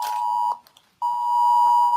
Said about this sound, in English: that's your phone. Yeah. I just got the same Amber Alert.